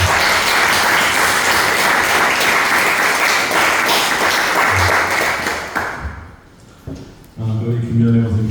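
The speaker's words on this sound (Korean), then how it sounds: "우리 수고하셨다고 박수 한번 쳐주세요." Dense sustained applause from a church congregation, loud and continuous for about six seconds before fading, then a speaker resumes talking.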